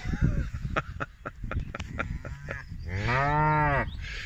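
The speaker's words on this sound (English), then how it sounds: "That's a lovely shorthorn calf." A shorthorn calf and cattle on an outdoor calving farm, with scattered thumps and rustles followed by one loud, close, drawn-out moo near the end.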